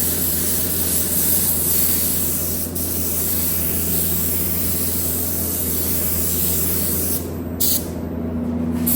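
Steady close spray gun hiss as candy blue paint is sprayed over a flame design, continuous and loud for the whole stretch, with a brief sharper burst of spray noise near the end.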